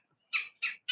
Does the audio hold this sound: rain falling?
no